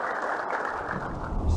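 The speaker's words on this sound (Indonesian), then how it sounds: "Berikan tepukan yang meriah." Applause from an audience at a pharmacy college graduation ceremony in Padang, a steady wash of clapping from a large crowd, moderately loud and continuous, with no talk over it.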